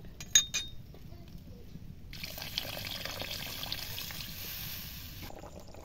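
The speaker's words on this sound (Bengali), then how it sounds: "রান্নাটা একটু ঝোল হবে, তাই আর একটু জল দেব।" Water poured into a pan of egg and potato curry, a steady pouring and trickling wash that starts after a couple of light utensil clinks and runs for about three seconds before stopping.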